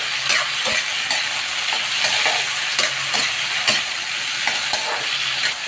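Tomatoes being stirred in a cooking pan, a constant hissing sizzle overlaid by regular scraping taps of a utensil about once a second, fairly close and with no voices.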